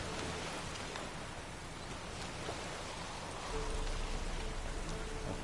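Steady rain falls in the Witcher 3 video game, a continuous soft hiss of drops on surfaces that grows a little heavier toward the end, with no voices over it.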